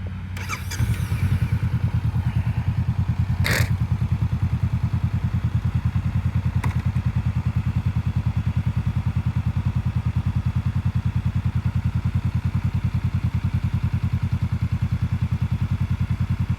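A motorcycle idling steadily and loudly close by, its rapid even engine pulse running the whole time, with a brief clatter near the start and a couple of faint clicks while a rider is learning.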